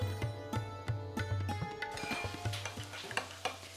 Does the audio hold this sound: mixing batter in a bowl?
yes